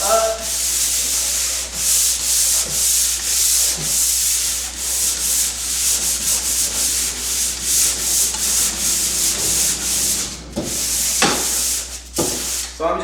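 A wall surface is hand sanded with light strokes, a rhythmic scratchy rubbing that rises and falls with each up-and-down pass, close and loud, with a person talking briefly between strokes.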